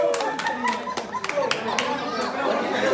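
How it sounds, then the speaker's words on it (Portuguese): Scattered hand claps from a small gathering at an association dinner, irregular and fairly close, mixed with chatter and talk, with a voice and some laughter among them. "Uma salva de palmas para o Alentejo"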